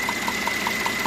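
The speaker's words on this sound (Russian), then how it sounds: "Появился стучок вот такой" Three-litre Mercedes-Benz E400 M276 biturbo engine idling with a new knock, a steady hum carrying regular light taps about five times a second.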